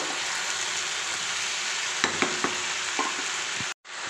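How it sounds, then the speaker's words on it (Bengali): Cooked mixed vegetables for a vegetarian dish are stirred in an open pan, a steady sizzle running throughout with a few distinct scraping knocks of the spoon near the end, then a brief cut to silence. "তো ঢাকা খুলে নিয়েছি নিয়ে এবার নাড়াচাড়া করব একটু"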